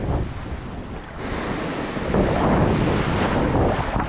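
Strong wind buffets the microphone while sea waves surge and wash nearby during a fishing outing on the water, a loud continuous roar that swells stronger midway and stays heavy to the end.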